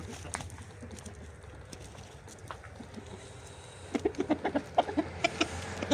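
A young rooster clucks over a soft rural background, first faintly, then in a quick, rhythmic run of short, close clucks near the end.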